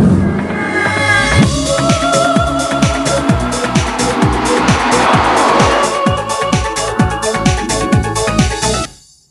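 A 2003 Maserati Spyder pulls away from a standstill, its engine note rising in loud repeated revving sweeps with gear changes and a sustained roar close by that cuts off at the end.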